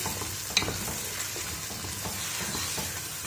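Spiced masala with yogurt being stirred and fried in a pan, a steady close sizzle with spoon scraping and one sharp clink early on, no talk.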